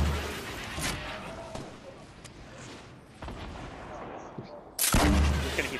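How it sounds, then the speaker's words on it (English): Gunfire in the Fortnite video game, scattered single shots and short bursts over a game soundscape, ending in a louder, denser blast of firing, with voices murmuring faintly in the mix. "Just gonna keep shooting."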